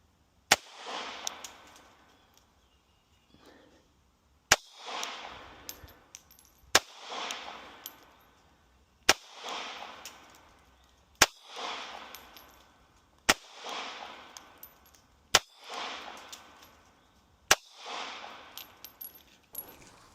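Shots from a Smith & Wesson Bodyguard 2.0 .380 pistol firing 70-grain G9 Defense ammunition, eight sharp reports spaced about two seconds apart, each a loud crack with a brief ringing tail, with no talking.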